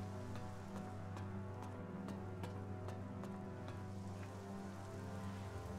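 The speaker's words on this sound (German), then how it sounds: "Der Arme muss hier im Regen rumfahren." Rain pours steadily in the game Elex, a constant hiss of drops with scattered sharper taps on surfaces, alongside a low engine-like hum and no speech.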